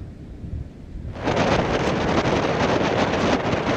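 Strong typhoon wind roars at night along the coast of Santa Ana, Cagayan, among big waves. After a quieter first second, a sudden loud gust buffets the microphone and keeps blasting steadily.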